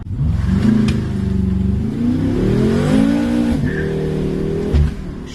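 A BMW M6 Gran Coupe's turbocharged engine revs hard and loud, pitch climbing and falling through a sustained, close roar with a brief burst near the end.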